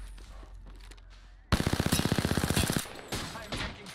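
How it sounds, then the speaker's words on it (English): A rapid automatic weapon burst fires in Apex Legends, about twenty close, loud shots in steady rhythm lasting over a second, then a few trailing shots, after a quieter stretch of game sound. "I'm taking fire."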